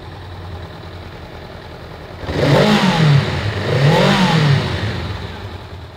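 A 2021 Honda Rebel 500 ABS SE motorcycle idles, then its engine is revved twice in quick, loud swells that rise and fall before settling back, heard up close with no talking.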